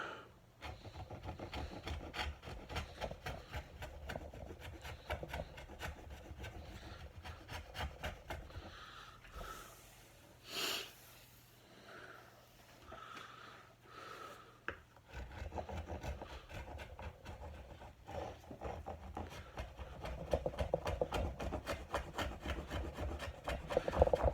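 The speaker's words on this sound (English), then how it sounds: "with a carving knife I can just get straight down into it" Steady rasping and scraping of a carving knife shaping the edge of a wooden dining table, close and continuous with a brief quieter pause midway.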